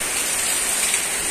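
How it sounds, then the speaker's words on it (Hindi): Rain falls during a village storm, a dense, steady hiss of drops hitting surfaces, close and continuous with no talk. "अभी बारिश भी होने लगा है धीरे धीरे"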